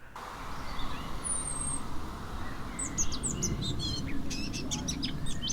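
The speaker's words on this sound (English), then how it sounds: "listening to birdsong. It starts early, and there's just so much of it." Birdsong chirps and trills, a mix of high whistles and rapid tweets, over a steady broadband background hum, with no voices.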